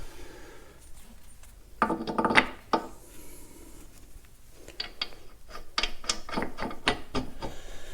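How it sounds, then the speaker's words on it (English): Nuts being threaded and ratcheted onto the rear wheel studs of a Farmall Super M tractor: bursts of quick metallic ratchet clicks in two clusters, close and moderately loud, with no talk. "Slide the lock on, thread the nut."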